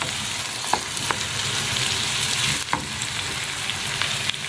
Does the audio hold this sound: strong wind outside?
no